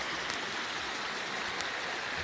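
Water babbling over stones in a stream near a waterfall in green hills, a steady, dense rushing wash that holds constant throughout with no voices.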